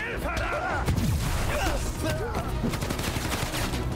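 Dense combat noise in the Spider-Man Miles Morales video game, with a thick stream of gunfire and crashing impacts, loud and continuous under whooshing effects and a voice speaking.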